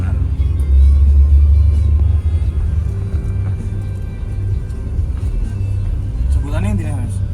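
A new Sumber Jaya Makmur bus overtaking on a bend gives a strong low engine rumble that swells and rises early on, then continues under talk, with a brief horn-like tonal sound near the end.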